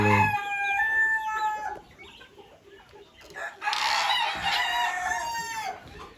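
Mixed-breed chickens, including Polish, Brahma, bantam and Angola fowl, crow and cluck in a yard; one rooster crows at the start, another longer crow follows later, with clucking between.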